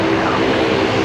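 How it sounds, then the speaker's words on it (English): A Dash 8 turboprop taxiing out at Brisbane Airport toward the new parallel runway, giving a steady, loud droning engine hum with a strong tonal buzz and no break. "there's a Dash 8 headed out"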